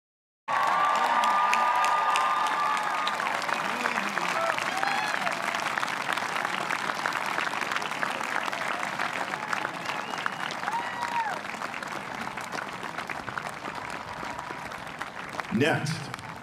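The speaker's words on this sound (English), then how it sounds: "please join us for a round of applause for Dakota Collegiate's graduating class" An audience at the Dakota Collegiate convocation ceremony applauds the graduating class of 2020, with sustained clapping and scattered cheers filling the hall for about sixteen seconds and slowly thinning toward the end.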